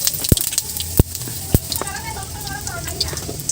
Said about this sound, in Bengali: সাদা জিরে ফোড়ন দিয়ে দিচ্ছি।